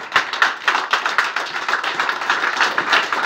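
A church congregation in Paris clapping in rhythm, steady brisk handclaps from a crowd, fairly loud and alone with no speech over them.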